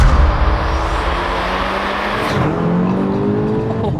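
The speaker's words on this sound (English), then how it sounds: "We'll get it fired up and go for a spin." A 520 bhp widebody Cupra estate under hard acceleration, its engine note climbing loudly and steadily with a gear change midway, heard close from inside the car, with a tyre squeal under the engine.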